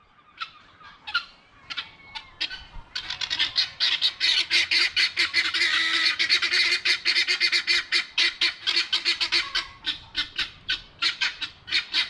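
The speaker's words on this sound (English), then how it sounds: "Bloody noisy birds." A noisy flock of geese honks and squawks continuously, loud and close, the calls building into a dense chorus and then settling into rhythmic repeated honks.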